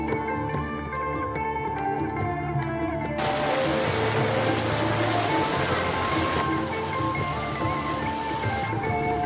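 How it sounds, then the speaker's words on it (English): Rain pours at a zoo in Singapore, a broad continuous hiss that swells suddenly partway through, over faint background sounds and without talk. "We took refuge from all that rain in this picnic bistro"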